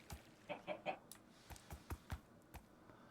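A Minecraft chicken clucks in a handful of short, faint, evenly spaced clucks, with soft thumps in between.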